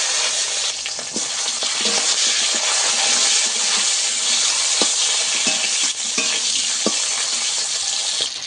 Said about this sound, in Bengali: শিমগুলোকে ভেজে নেবো একটু